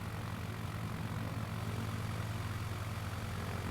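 Propeller plane engine in Microsoft Flight Simulator throttling up while climbing a slight incline, a steady loud droning hum with low throbbing tones that holds without a break, no talking.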